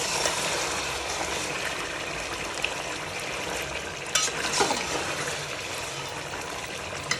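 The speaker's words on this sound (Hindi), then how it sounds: "तो देखिए चिकन हमारा कुक हो रहा है।" Chicken cooks in an uncovered pot for pulao, giving a dense, steady bubbling hiss up close, broken by a couple of brief clinks near the middle and end.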